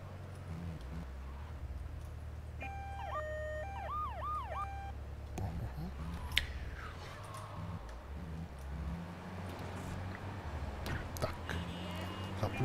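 An ambulance siren in the video game GTA III wails, rising and falling for a few seconds over a constant engine drone, then cuts off, leaving rumbling traffic-like noise.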